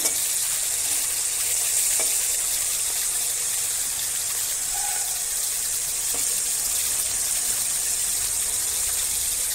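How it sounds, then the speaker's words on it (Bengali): Shrimp sizzling in a pan with a steady, bright hiss of frying oil, continuous and fairly loud, broken only by a couple of faint clicks of a utensil. "আজকেটা আমি চিংড়ি মাছ দিয়ে করছি। মাছটাকে এইভাবে ভেজে নিতে হবে।"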